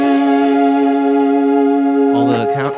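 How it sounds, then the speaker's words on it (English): A sustained guitar note through a Kemper amp's circus reverb effect rings out drenched in lush, washy reverb, then a voice starts talking over the tail near the end. "what if I just wanted like a plate reverb? A circus reverb?"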